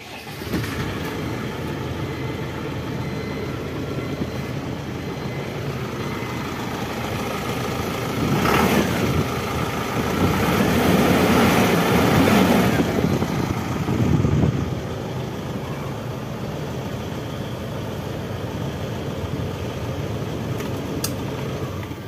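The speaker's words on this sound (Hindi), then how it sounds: "अभी इंजन को स्टार्ट कर इंजन के" An Ashok Leyland Sunshine 49-seater school bus with a BS6 diesel engine runs steadily at idle, a low, even rumble that swells in a couple of revs around the middle before settling back.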